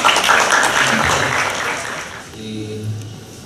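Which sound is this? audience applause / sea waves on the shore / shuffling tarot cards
audience applause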